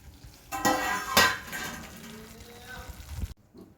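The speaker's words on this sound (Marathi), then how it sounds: "तर आता भाजी मी मिक्स करून घेते" A spoon stirs whole-onion bhaji in a pan, making two sharp metallic scrapes followed by softer stirring and faint sizzling close by before it stops.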